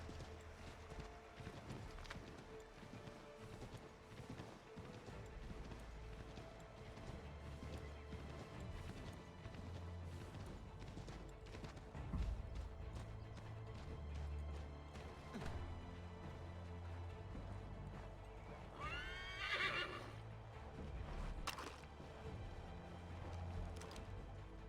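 Hooves pound in a steady gallop for a long stretch in the video game Assassin's Creed 3, with a shrill horse neigh breaking through near the end.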